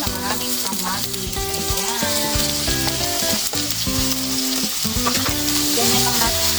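Chopped tomatoes hitting pork in a hot pan, a loud, dense sizzle with crackling and stirring close by, running continuously under background music.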